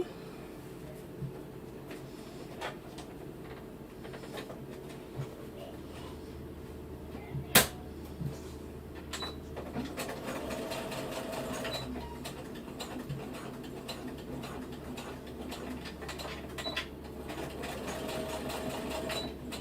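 A sewing machine runs in steady bursts, joining two overlapped ends of elastic, with one sharp click partway through and a continuous low motor hum beneath.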